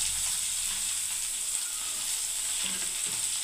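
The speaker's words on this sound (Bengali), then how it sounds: "এবারে বন্ধুরা আমি পেঁয়াজ কুচনো দিয়ে দিচ্ছি" Chopped onion fries in a pan with oats and pigeon pea dal, a constant bright hiss of sizzling close up with faint stirring knocks near the end, no voices.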